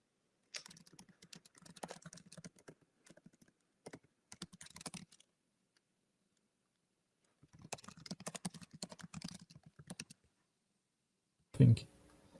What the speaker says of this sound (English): I'm typing questions